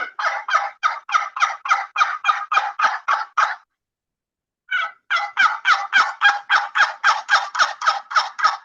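A hand-operated turkey call imitates a wild turkey hen's assembly call: a long, steady run of about a dozen close, loud yelps, a short pause, then another even string of yelps.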